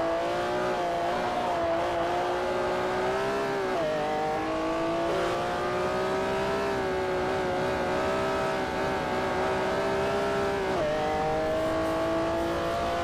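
In Forza Motorsport 4, a Ferrari supercar's engine holds a loud, sustained high-rev whine, shifting pitch at a couple of gear changes and climbing again, with the racing din continuous throughout.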